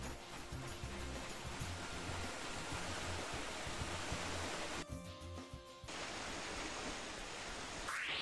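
Constant broadband rush of a waterfall in the video game Star Ocean: Till the End of Time, steady and dense, briefly dipping and shifting before resuming, with no voices.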